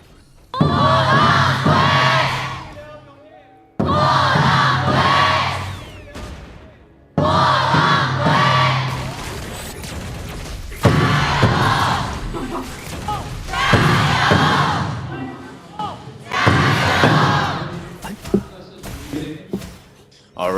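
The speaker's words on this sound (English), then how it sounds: "we'll hear the fans cheer for their teams here" Esports fans at the KPL Grand Finals knockout stage roar and chant in loud surging waves, with several bursts of crowd cheering separated by brief lulls across a large arena.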